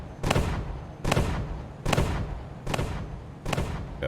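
Long-range guns firing in the video game Captain of Industry: five heavy, booming shots spaced evenly about a second apart, each with a sharp crack and a rumbling tail.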